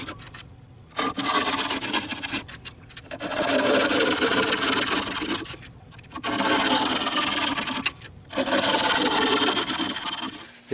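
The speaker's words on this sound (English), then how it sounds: "I'm going to cut these lines down further to separate these petals some more and then sand them up real good" A wooden poppy bowl's petals are carved and sanded with a power tool in repeated rough, raspy grinding bursts of a few seconds each, separated by short pauses, loud and close.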